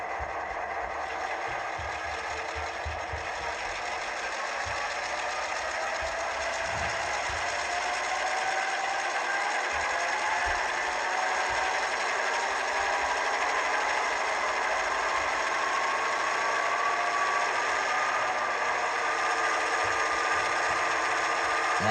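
A Rapido GP9RM model locomotive's engine sound runs at full throttle, a steady mechanical whirring drone held at a constant high pitch with a faint rising whine and no talking.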